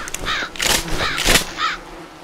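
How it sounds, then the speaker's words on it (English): Crows caw repeatedly in the zombie video game Land of the Dead: Road to Fiddler's Green, with several loud, harsh calls in quick succession and no speech over them. "look at the sky and the crows"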